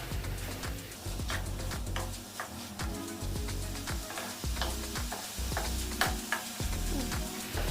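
Radish palya is stirred with coriander leaves in a sizzling pan, with steady rhythmic scraping strokes over continuous frying hiss, close and fairly loud with no talking.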